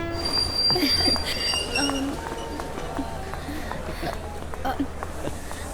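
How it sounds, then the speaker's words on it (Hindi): A train pulls into a station in a Hindi-dubbed South Indian film scene, its low rumble and faint wheel squeals running steadily beneath people talking nearby. "ट्रेन आ गई, चलो जल्दी चलो।"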